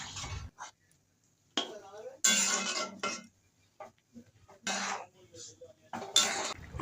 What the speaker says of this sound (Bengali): এবার গ্রেট করা আনারস দিয়ে ভালো করে নাড়াচাড়া করে নিন